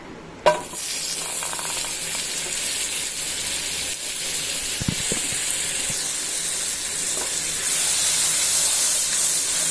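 Butter melts and sizzles in a hot pan for tempering, a steady close hiss and crackle that begins with a sharp clink and runs without a break, getting slightly louder toward the end.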